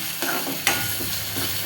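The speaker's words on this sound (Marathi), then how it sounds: "छान लाल होईपर्यंत त्याला परतायचं आहे" Ginger, garlic and green chili paste dropped into hot oil with onions for a whole masoor dal dish, a close continuous sizzle with a couple of sharp bursts as the paste hits the pan and is stirred.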